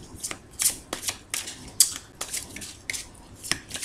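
Tarot cards are shuffled close up in quick riffling bursts, a dozen or so crisp papery flicks in uneven rhythm, with no talk.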